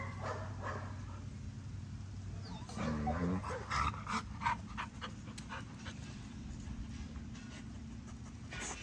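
Blue XL pitbull puppies whimper and pant close by, with soft yelps and short whines over steady breathing noise and a faint low rumble in the room.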